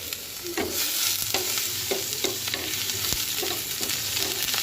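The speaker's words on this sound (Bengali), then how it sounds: "চলো এবারে একটু খিচুড়িটাতে ফোড়ন দিয়ে দিই। এখানে ফোড়নে আমি দিয়েছি, এখানে দিয়েছি জিরে শুকনো লঙ্কা তেজপাতা আর পেঁয়াজ" Cumin, dried red chilli, bay leaf and onion sizzle in plenty of hot oil as a tempering for masoor dal khichuri, a continuous close hiss with regular scraping strokes of a stirring spoon.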